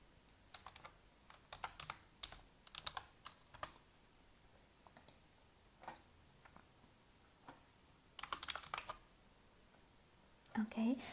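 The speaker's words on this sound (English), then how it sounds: "let me please type to Carlos to check if he can join" Close keyboard typing comes in quick, irregular bursts of light clicks with short pauses between them, quiet and intimate, with a soft voice heard faintly near the end.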